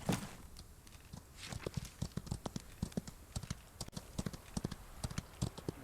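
Horse hooves clip-clopping at a steady walking rhythm in the Old West video game Outlaws of the Old West, close and crisp with no talk over them.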